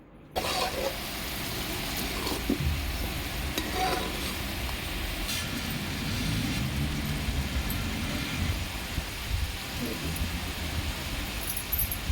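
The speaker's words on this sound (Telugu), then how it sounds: "ఆయిల్లో కొంచెం కలుపుకుంటూ ఉండండి మాడకుండా" Onion paste fries in hot oil for a fish curry and is stirred now and then, giving a steady close sizzle with scraping and clatter of the spoon against the pan.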